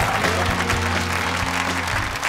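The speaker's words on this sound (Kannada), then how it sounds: "ಅವ್ರು ಹಿಂಗ ಅಂದಷ್ಟ್ರಲ್ಲಿ ಮಾಡ್ಬಿಡ್ತಾರೆ ಚಪ್ಪಾಳೆ." TV game show audience clapping steadily throughout, a dense, continuous wash of applause at fairly close range with faint murmuring beneath.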